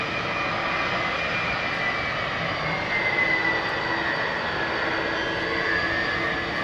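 Older aircraft engines roar steadily at Heathrow Airport, a continuous loud droning whine with no talking, holding level throughout.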